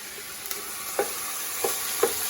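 Vegetables for minestrone toast in a pot with a steady, close sizzle, broken by a few soft scrapes and knocks of stirring.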